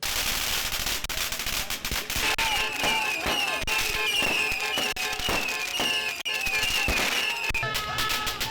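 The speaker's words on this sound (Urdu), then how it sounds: "مانچسٹر میں P T I north west کے رہنماؤں نے جیت کا جشن منایا اور آتش بازی کا شاندار مظاہرہ کیا۔" Fireworks crackle and pop continuously at an outdoor victory celebration in Manchester, dense rapid bursts with whistling rising tones overhead, loud and close.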